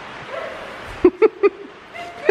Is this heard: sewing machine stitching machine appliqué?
no